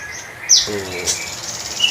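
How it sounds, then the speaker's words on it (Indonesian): Grey-headed tepus bird singing among caged songbirds, a few short high chirps and a brief trill close by, with faint insect-like buzzing in the background. "Terus berikut mas ke burung tepus kepala abu ya."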